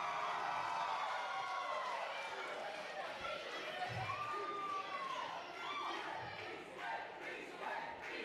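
A wrestling arena crowd roars and cheers continuously throughout, with shouts and chants rising over the din and a voice speaking over it.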